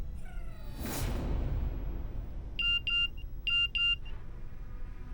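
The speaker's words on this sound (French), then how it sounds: "ton téléphone n'arrête pas de faire du bruit" A mobile phone rings at a moderate level, two short pairs of bright electronic tones repeating about a second apart, following a whoosh and a low rumble.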